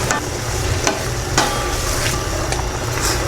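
Fried tofu stirred into sautéed pechay in a pan gives a steady close sizzle broken by a few sharp spatula scrapes and clinks, with no talking.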